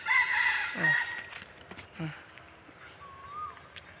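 A rooster crows nearby, its call trailing off, followed by scattered clucks and faint fowl calls in a quiet outdoor setting.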